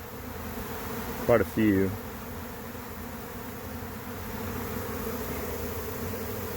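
A honey bee swarm leaving a hive buzzes as a steady drone throughout. A person briefly speaks over it near the start.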